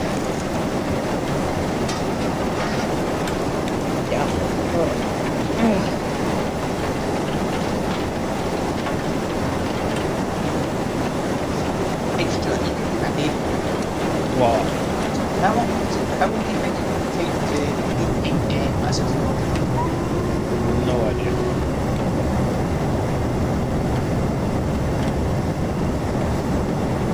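Steam locomotive hauling a train in a Train Simulator 2018 game, with a loud continuous rumble, rolling rail noise and faint clicks, holding steady for the whole stretch with no voices over it.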